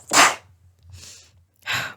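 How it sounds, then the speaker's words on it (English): A single sharp sneeze bursts out close by, followed by a softer breathy exhale and then another short, forceful burst. "Oh, I need to sneeze."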